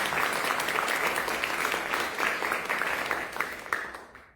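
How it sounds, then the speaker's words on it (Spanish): Sustained applause from an audience at an academic talk at San Marcos, dense steady clapping that fades toward the end after a brief swell, with no one speaking over it. "Un fuerte voto de aplauso también para el profesor."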